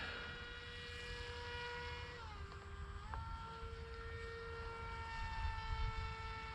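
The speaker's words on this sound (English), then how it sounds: "Let's see if we can get her up and fly her inverted." A Dynam Hawksky V2 radio-controlled plane flies inverted, its electric motor giving a steady, distant whine that dips and jumps in pitch as the throttle changes, over constant outdoor background noise.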